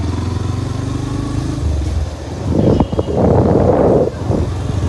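A motorcycle rides along a road near Bhiwandi: a low, steady engine drone at first, then louder rushing gusts of wind buffeting the microphone during the second half.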